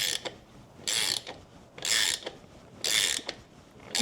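A ratcheting wrench working on a 2024 vehicle, giving three loud, close bursts of fast clicking strokes, each about a third of a second long and spaced roughly a second apart, with lighter ticks in between.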